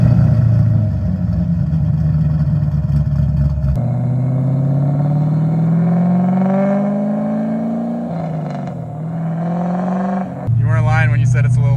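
Loud V8 from an LS engine swapped into a Toyota FRS revs and pulls through the gears, pitch climbing steadily then dropping at each shift, with a sharp rasping note near the end and people talking over the cabin noise.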